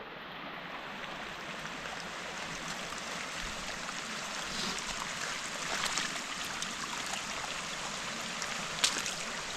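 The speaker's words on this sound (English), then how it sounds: "That's a lot of water." A flowing stream near a rock climbing spot along Wakehurst Parkway, a steady broadband rush and trickle of water that stays even and fairly close throughout, with no voices.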